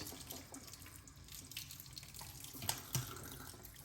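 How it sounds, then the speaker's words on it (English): Tap water runs steadily into a sink for a warm face rinse while shaving, a faint continuous splashing stream with a couple of brief drips and splashes near the end. "All right, so warm rinse."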